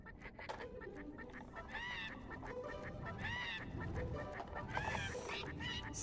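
Cartoonish birds in the Skylanders Trap Team game squawk and honk off-key like a bad choir, goose-like cries repeating in uneven bursts over music.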